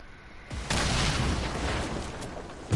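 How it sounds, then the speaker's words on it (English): A heavy shotgun fires in Fortnite Battle Royale: one hard, close boom breaks in and trails into a dense, sustained rumble of noise. "at this point, we shot him with the heavy shotgun"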